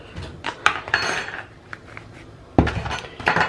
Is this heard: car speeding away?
no